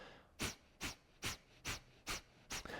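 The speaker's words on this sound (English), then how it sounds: "Lately it's a Kapalabhati technique, meaning breath of fire." Six sharp, forceful exhales through the nose in yoga kapalabhati (breath of fire) breathing come in an even, quick rhythm, each a short puff of breath with a brief pause between.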